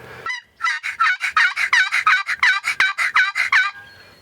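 A wild turkey gobbles loudly and close, one rapid rattling burst of about a dozen pulses lasting a few seconds in open hunting country, with no talk.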